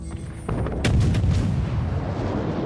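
Heavy naval guns boom in World of Warships, a deep blast rolling out over a sustained rumbling roar, loud and close, fired at an island during a cannonade.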